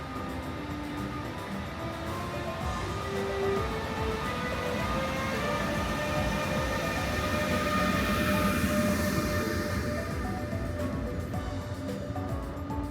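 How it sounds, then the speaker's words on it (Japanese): An international train with a Swiss panorama coach departs Bischofshofen station in Austria, a steady loud rolling rumble with squealing wheel tones and rising mechanical noise as the cars pass close by. "せっかくなので先にこの列車を見送ってから行きましょうか。"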